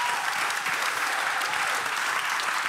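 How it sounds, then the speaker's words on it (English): An audience at a conference on European media applauds in a dense, even round of clapping that holds steady for the whole stretch. "Can I get a round of applause for these amazing creatives?"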